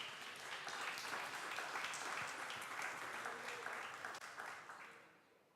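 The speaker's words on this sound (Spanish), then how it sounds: "Aplauda su nombre en esta noche." A church congregation claps together in sustained, even applause that tapers off near the end, with no voices over it.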